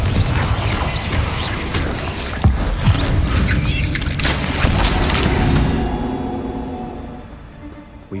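Confringo blast spell exploding in the Hogwarts Legacy video game: a loud booming burst with crashing debris and sharp cracks, followed by a rumbling roar that gradually fades out.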